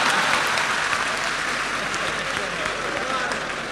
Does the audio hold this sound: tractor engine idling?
no